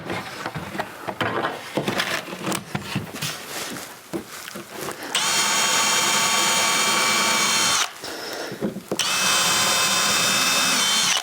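A power drill boring pilot holes in wood for an indoor ladder, with rattling handling and short bursts early on, then two long sustained high-speed runs broken by a brief pause.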